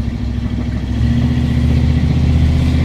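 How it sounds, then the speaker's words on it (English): A big old Chevy van with a 4x4 swap, its engine droning loud and close, the rumble rising in level partway through and holding steady, with no voices. "A big old Chevy van"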